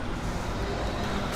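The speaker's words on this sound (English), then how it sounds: "Man, that garbage truck is just" Garbage truck pulling away fast on a Manhattan street near the West 4th basketball courts, a steady loud rumble of engine and road noise that fills the whole moment amid city traffic.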